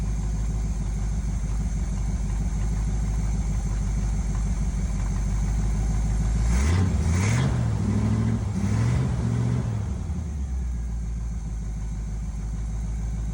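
A 1971 Chevy C10 engine idles with a steady low rumble, then briefly revs twice in the middle before settling back to idle, close by with no talking.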